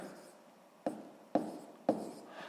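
A pen or chalk taps out a few short, firm strokes at a steady pace while a fraction is written for a sixth-grade maths exercise, with quiet hiss between strokes.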